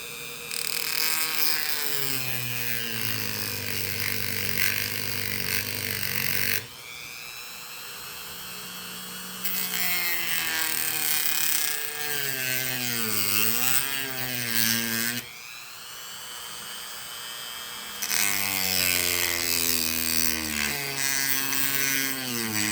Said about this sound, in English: Just gonna go nice and easy with this Dremel tool.